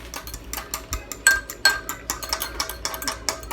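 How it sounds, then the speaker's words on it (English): A utensil scrapes and clinks briskly against a dish while stirring a separating mixture, a quick uneven run of close taps and scrapes with a couple of brighter metallic rings. "Stir it up. It separates a little bit, so just stir it."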